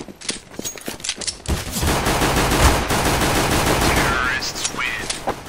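Gunfire in Counter-Strike, a fast run of loud automatic shots and bursts filling the whole stretch, with a few sharper single cracks near the start and end.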